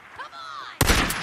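Sudden burst of gunfire in the Days Gone video game, a loud, abrupt crack of shots following a brief moment of quieter tonal game sound.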